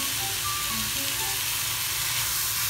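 Beef searing in a dry, fat-free Tupperware Chef Series anodized frying pan, giving a steady close sizzle and crackle throughout with no talking.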